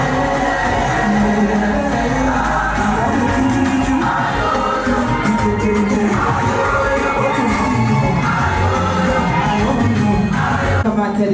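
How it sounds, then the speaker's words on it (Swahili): A crowd ululates loudly at a bridal send-off ceremony, with high trilling calls and cheers overlapping over dense music and chatter throughout. "Tumshangilie kwa vigelegele."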